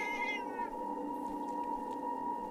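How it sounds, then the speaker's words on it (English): A cat meows in the video game Forspoken, one clear drawn-out falling meow up close over a steady humming game ambience, followed by quiet background tones. "is this a cat with a horn in his head?"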